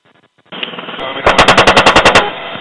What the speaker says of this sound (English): they're shooting at bad guys